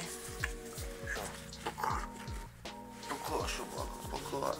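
A dog whimpers and yips in short, repeated whines, close by, while a person talks over it.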